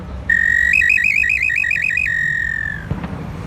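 A handmade Mexican clay bird whistle imitates a gorrioncillo: one loud, close, sustained shrill tone that breaks into a rapid warbling trill, then settles back to a steady note and fades, with no talk.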